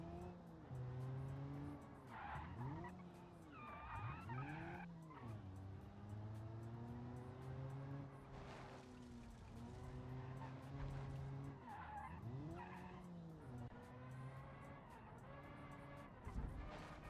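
A 90s Japanese sports car drifts on slippery tires, with long, loud squealing skids that rise and fall in repeated sweeps over a revving engine. No one speaks.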